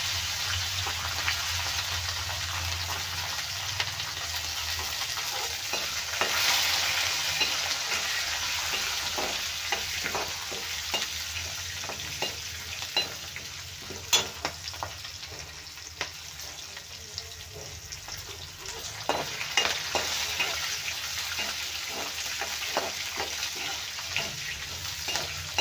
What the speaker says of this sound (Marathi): याला छान भाजून घ्यायचं आहे।